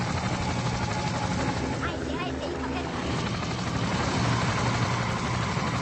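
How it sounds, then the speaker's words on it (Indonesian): A patrol helicopter in a war film about Russian forces and a Georgian special forces battalion, heard as a loud, steady rotor and engine drone with a dense low rumble running unbroken through the whole stretch. "Tak lama kemudian muncul sebuah helikopter patroli"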